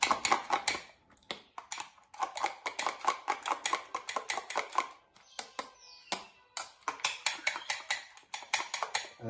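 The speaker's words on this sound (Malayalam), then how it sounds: "സാധാരണ ഓംലെറ്റ് അടിക്കുന്ന പോലെ രണ്ടും മിക്സ് ചെയ്യുന്നു" Eggs being beaten for an omelette, a rapid run of close, light tapping strokes against a bowl with brief pauses between bursts, no talking.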